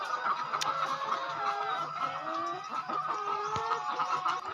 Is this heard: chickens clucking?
yes